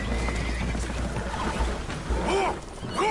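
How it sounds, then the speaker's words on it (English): Spooked horses neighing aboard a holed boat taking on water, with rising and falling whinnies near the end over a rushing, splashing background and low rumble, fairly close and agitated. "Horses are spooked, and we're taking on water."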